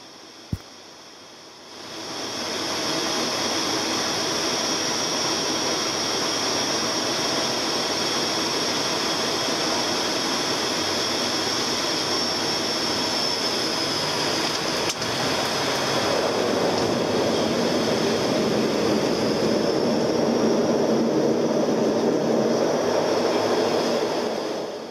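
An ATR turboprop airliner on visual approach to the runway at Maamigili in the Maldives, heard from inside the cabin as a steady, loud engine and propeller drone that swells slightly toward the end.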